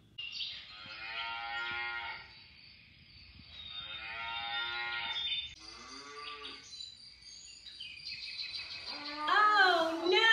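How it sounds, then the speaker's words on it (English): A cow loose in a cornfield lows in several long, loud moos, with pauses between them. Birds chirp at the end. "Oh no! Cow is in the cornfield."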